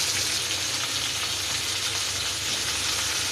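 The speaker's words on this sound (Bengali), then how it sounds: "আমি এই কেটে রাখা পেঁয়াজ, মান আর আলু ভাজতে দেবো।" Onion, mann kochu (giant taro) and potato pieces frying in hot oil with cumin and a bay leaf, a steady close sizzle and crackle holding evenly throughout with no talking.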